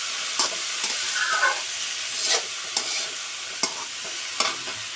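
Bottle gourd pieces with shrimp fry in a pan while being stirred. A steady, soft sizzle runs throughout, with regular scraping strokes of the spoon against the pan.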